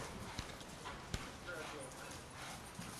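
Hooves of a horse under a rider clop in a brisk, uneven rhythm with a few sharper strikes, set against a busy background of noise and voices.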